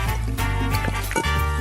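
Water gulped or poured in a steady, wet stream during a spicy chili food challenge, with a few brief sloshing breaks and no talking.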